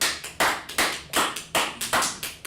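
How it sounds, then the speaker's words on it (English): Hands clap in a classroom in a steady, rhythmic beat of about nine sharp claps, fairly close, with no voices. "Let's clap it up in class."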